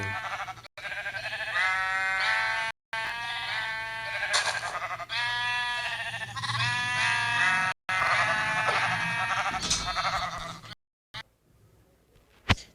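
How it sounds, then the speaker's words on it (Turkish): Minecraft sheep, about a hundred penned together, bleat in a dense overlapping chorus of repeated nasal calls, loud and close, with brief dropouts and a quieter tail at the end. "Evet arkadaşlar aşağıda 100 tane falan koyun var da şu an."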